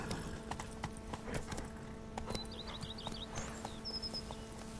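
Hooves from Geralt's horse in The Witcher 3 clip-clop in a brisk, steady gait, close and clear, with faint birdsong chirping in the background.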